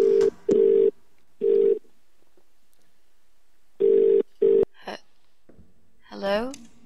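A telephone ringing in the video game The Cat Lady: repeated electronic ring bursts in pairs with pauses between, then a short voiced sound near the end.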